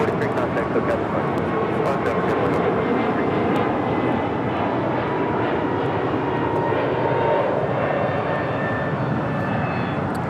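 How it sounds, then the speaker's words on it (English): A Delta Airbus A220-300 jet takes off at LAX, heard as a continuous loud, broad engine roar that holds steady throughout, with faint voices underneath. "We have another Delta A220. This is the 300 version. Taking off to San Antonio, flight 1043."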